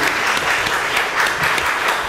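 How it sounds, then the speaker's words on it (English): Mourners at a funeral service in a Baptist church clap their hands together in a dense, continuous round of applause, loud and close throughout. "can we clap our hands?"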